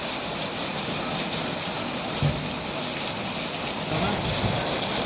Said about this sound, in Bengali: এখনো বৃষ্টি হইতেছে আমি যে ভিডিওটা ধারণ করতেছি এখনো বৃষ্টি হইতেছে